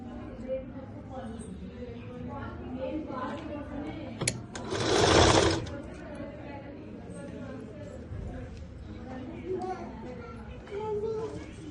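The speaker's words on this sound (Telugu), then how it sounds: "ఫస్ట్ ఎడ్జి కుట్టు వేసుకోవాలి." A sewing machine stitches the edge of a school skirt in a short, loud whirring burst, while someone talks and children can be heard in the background.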